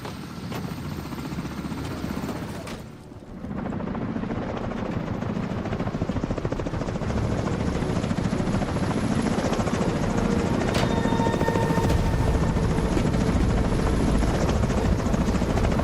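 Helicopter in The Division video game, a steady loud rotor and engine drone that fills the scene continuously, briefly dipping once early on before returning at full strength.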